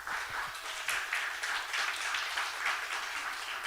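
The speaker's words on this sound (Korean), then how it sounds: "우리 박수 한번 보자" Applause from a church youth service congregation after a worship leader's first turn leading songs, a steady, fairly soft wash of clapping lasting throughout without pause.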